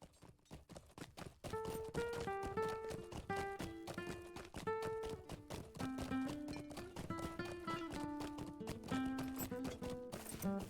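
Horse hooves clip-clop in a rapid, steady galloping rhythm in the video game LOTRO, mixed under a continuous layer of tonal game music that fills the whole stretch.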